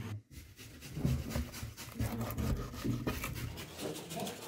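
A knife slices firm, ham-like pike fish into small pieces on a board, giving close, repeated rubbing and cutting strokes with an uneven rhythm and no talk.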